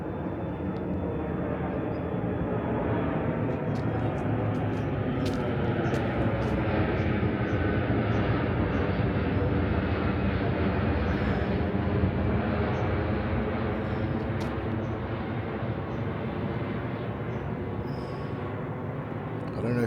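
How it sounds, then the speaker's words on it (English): A Delta airliner passes overhead on the flight path near a building site in Ghana, a continuous loud roar that fills the whole stretch without letting up. "here comes the Delta flight"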